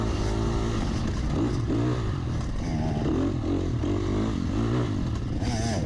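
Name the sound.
dirt bike racing engines taking off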